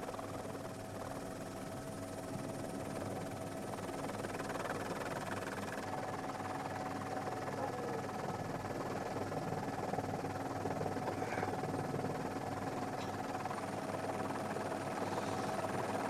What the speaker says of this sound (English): I think we're getting towards the end of the range of the helicopter as it follows the boats out.